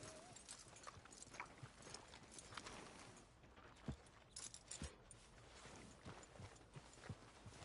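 Horse hooves in the video game Red Dead Redemption 2 clip-clop at a steady walking pace, fairly close, with occasional louder hoof strikes over a faint background.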